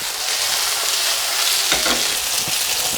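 Butter sizzles steadily in a hot frying pan as it browns toward almost burning, a continuous close hiss with a brief louder crackle partway through.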